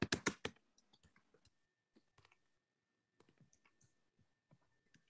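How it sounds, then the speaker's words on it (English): Typing on a computer keyboard: a quick burst of loud clicks at the start, then sparse, quieter key taps scattered over several seconds with gaps between them. "I'm going to type it."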